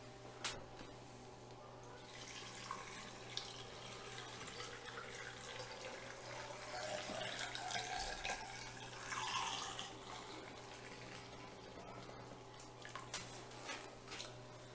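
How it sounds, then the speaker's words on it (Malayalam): Cooled boiled water, salted and tinted with turmeric, pours into a washed and dried glass jar. It makes a faint, continuous splashing trickle that lasts throughout, with a few soft clinks and no talk. "ഇതിലേക്ക് ഞാൻ തിളപ്പിച്ച് കുറച്ചാറിയ വെള്ളം ഒഴിച്ചു വെക്കുക"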